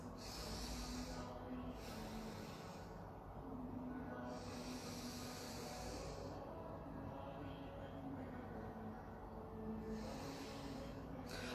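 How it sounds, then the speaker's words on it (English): Slow, steady breaths for a face yoga exercise: soft hissing inhales and exhales at an unhurried pace, faint and close, with no talking. "So this is normal inhale exhale process."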